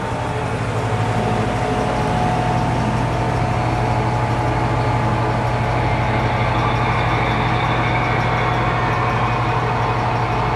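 Steady low mechanical rumble with a constant engine-like hum, continuous and fairly loud throughout, a DCC digital sound effect from a model locomotive at the WK&S Railroad in Kempton, Pennsylvania.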